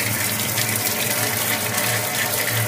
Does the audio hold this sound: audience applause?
no